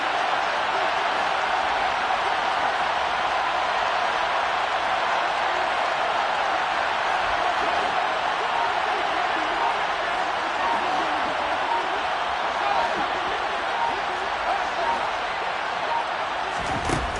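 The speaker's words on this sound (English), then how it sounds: "the crowd getting into it as we come up on a big third down" A Madden football video game stadium crowd roars steadily through a big third-down play, a dense, continuous wash of cheering noise that holds at an even level throughout.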